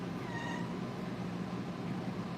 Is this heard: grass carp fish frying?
no